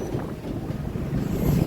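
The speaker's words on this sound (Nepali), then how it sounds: "कस्तो डरलाग्दो हावा चल्दैछ चिसो हावा" Strong, cold wind gusting outdoors, a steady broadband rush buffeting the microphone and swelling louder toward the end, with no voices.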